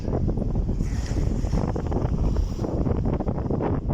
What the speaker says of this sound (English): Loving the weather, just the wind's letting it down.